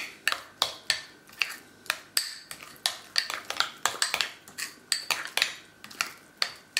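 Mashed avocado mixed with honey in a bowl, a utensil clinking and scraping against the dish in quick, irregular strokes, close and alone.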